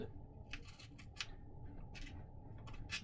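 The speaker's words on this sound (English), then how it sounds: "So we'll just hold that in place while I cut this." Scissors snip through material in a quiet workshop during a robotics build season, giving a series of short, crisp cuts in an irregular rhythm, close and faint.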